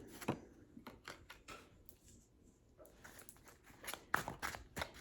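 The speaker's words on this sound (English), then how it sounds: "I'll be quiet just while I shuffle" Quiet, irregular papery riffles and soft card flicks from shuffling tarot cards, several short bursts spread across the clip, close and faint with no talking.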